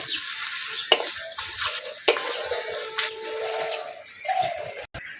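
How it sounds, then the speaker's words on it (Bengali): Steady sizzling of panch phoron and dried red chillies frying in hot oil, with occasional clinks and scrapes of stirring in a pan, close by and without voices. "ফোড়নটা একটু ভাজা ভাজা করে নেব।"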